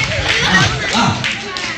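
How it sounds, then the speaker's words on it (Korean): Children clapping at a church children's gathering with a balloon sermon and puppet show, a quick scattered patter of small hands heard under excited voices. "박수!"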